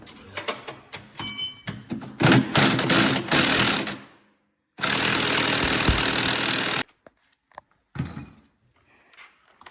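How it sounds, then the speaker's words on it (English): An impact gun removing the skid bolts of a snowmobile with a 17 mm socket, loud rattling bursts of hammering, one around two seconds and another steady two-second run, separated by short pauses and clinks. "in order to get this off, we're using an impact gun, 17 millimeter socket, 17 millimeter wrench"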